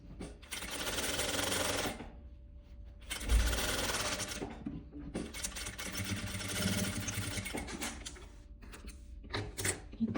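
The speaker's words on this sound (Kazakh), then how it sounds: "Осылай айналдырып тігіп шығамыз." A sewing machine stitches a pocket onto a boy's stand-collar vest, running in four steady mechanical bursts with short pauses between them, close and clear, with no talk.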